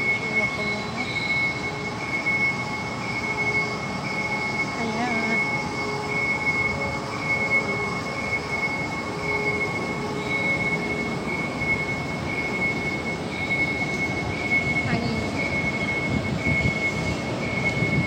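MRT metro train running on rails, heard from inside: a loud, steady rumble and roar with squealing wheels and clattering, continuous throughout without talk.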